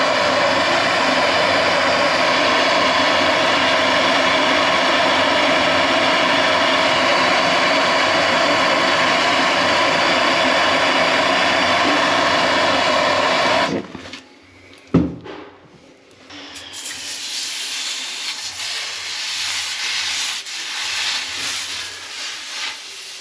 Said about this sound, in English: I'm going to solder this elbow, this T, that's up for the bypass